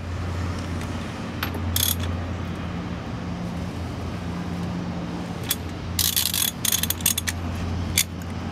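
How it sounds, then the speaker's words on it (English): Steering wheel turned on an EPAS electric power steering torque test rig: a low steady hum runs throughout while scattered clicks and ratcheting bursts come and go, the busiest cluster near the end, with no talk. "We're going to go ahead and turn the wheel one more time."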